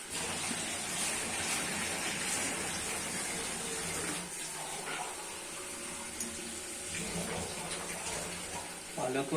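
Tap water runs steadily into a sink to wash a batch of spinach for Pakistani palak gosht, a continuous close splashing rush that eases slightly midway, with faint background sounds.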